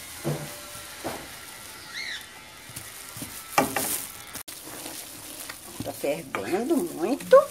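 Homemade orange-peel soap bubbles and sizzles in a pot while alcohol is added and beaten in, with intermittent stirring scrapes, soft hissing and clinks growing busier toward the end.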